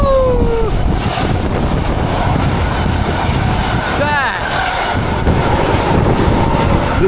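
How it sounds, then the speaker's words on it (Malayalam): A container goods train rolls through a station with a loud, steady rumble and rattle of wagons that lasts throughout, broken by a brief wheel squeal partway through. "ഒരു ട്രെയിൻ പോകുന്നത് ഇവിടെ ഗുഡ്സ് ട്രെയിൻ."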